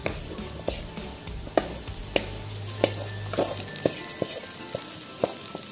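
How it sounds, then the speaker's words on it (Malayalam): Small pieces of tuna go into a pan of sautéed onions and sizzle steadily, with a crisp frying hiss, a brief louder burst at the start, and regular clinks and scrapes of a spoon stirring close by. No one speaks. "ഇനി ഇത് നമ്മൾ തയ്യാറാക്കി വെച്ചിരിക്കുന്നതായ ഉള്ളി വഴറ്റിയതിലേക്ക് ഇട്ട് കൊടുക്കാം"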